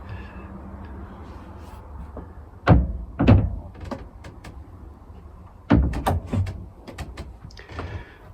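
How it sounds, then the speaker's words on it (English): Wooden doors in a narrowboat bedroom are pulled shut: two pairs of close thuds and knocks a few seconds apart, with faint rattles and light handling sounds between them. "I'll just close these doors."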